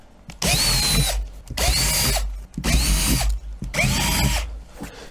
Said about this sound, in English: we do have to drill these nice little 1/8 inch holes out